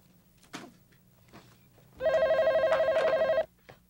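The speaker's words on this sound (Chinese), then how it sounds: "电话。" A telephone bell rings indoors in a single loud burst of about a second and a half, set against quiet room tone with faint scattered sounds before and after.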